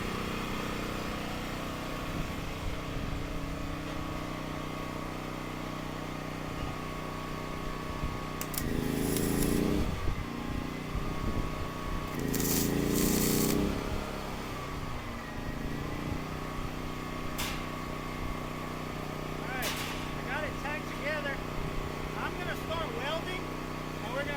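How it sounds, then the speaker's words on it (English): A Harbor Freight Predator 13,000W tri-fuel generator runs at a steady, loud drone powering a welder on 1/2 inch material, with the engine note swelling under load twice in the middle. "Let's run this and see how this generator holds up."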